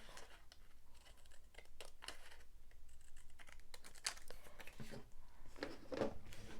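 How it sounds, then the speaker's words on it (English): Scissors snip through paper while cash envelopes are cut by hand at a table, a quiet series of short, irregular crisp cuts and rustles, a little louder near the end, with no talking. "And so I'm just going to cut these and try to cut them in a straight line."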